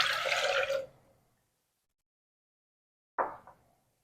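Water pours into a cooking pot in a short splashing rush lasting about a second, then silence, then a brief second splash or clunk.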